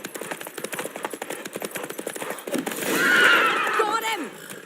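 Roach, a horse in The Witcher 3 video game, trots with a quick run of clip-clopping hooves, then lets out a loud, close neigh that rises and falls near the end, while a voice speaks briefly over the hoofbeats.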